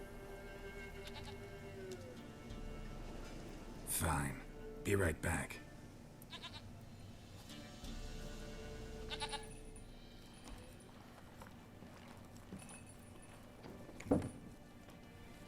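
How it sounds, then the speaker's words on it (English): A goat bleats in The Witcher 3: Wild Hunt, several short loud calls clustered together over faint game ambience, with talk before and after. "Like a goat."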